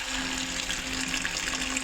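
Water pours into a pot of washed chickpeas, a steady close gushing stream with a faint underlying hum, continuous throughout.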